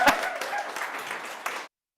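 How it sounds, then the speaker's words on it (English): Brief burst of audience applause for speaker Sammy at a talk, broad and steady clapping lasting under two seconds before cutting off cleanly. "a big round of applause for Sammy, please"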